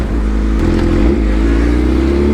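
A Bajaj Pulsar NS motorcycle engine revs loud and steady during a wheelie, a close, continuous droning roar that holds throughout with no talking.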